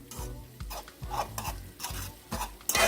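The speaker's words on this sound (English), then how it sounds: "So after allowing your saltfish and your seasonings to cook down for a few minutes" Saltfish and seasonings cooking down in a pan for Jamaican ackee and saltfish, a soft sizzle broken by regular scraping stirs of a utensil against the pan, close and rhythmic.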